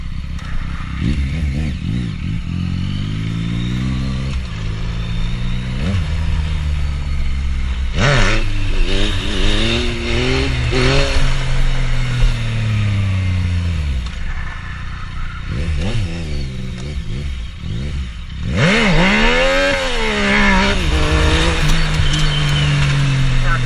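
A Yamaha FZ-09 motorcycle engine revs hard and drops in repeated surges during standing clutch-up wheelies, loud and close, with rising and falling pitch sweeps and a few pauses between runs.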